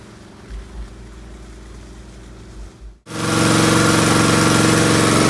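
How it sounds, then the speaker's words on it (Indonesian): Water pump engine used to irrigate a corn field, heard as a faint idle that cuts out for a moment and then starts up as a loud, steady, close running drone. "Berikut mesin air yang saya gunakan. Ini kondisinya berjalan."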